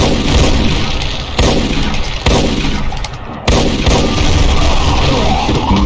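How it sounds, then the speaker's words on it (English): Rapid, heavy blasts from an enemy's fused rapid-fire and explosive shotgun in a Doom mod, loud and close, in continuous booming bursts with sharp new volleys roughly every second. "it is like the rapid-fire shotgun, except fused with the explosive shotgun"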